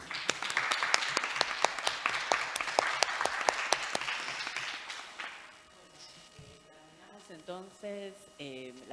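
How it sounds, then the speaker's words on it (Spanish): Audience applause closing a literature symposium day, a run of distinct claps that fades out after about five seconds, followed by a speaking voice. "un aplauso para cerrar el día"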